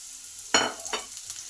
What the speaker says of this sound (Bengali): এই সময় পেঁয়াজ কুচি আছে সেটা দিয়ে দিলাম